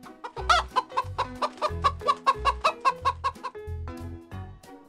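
Chickens cluck in a rhythmic, musical sequence set to a bouncy beat in a children's Easter story, loud and close with evenly spaced clucks over a bass line.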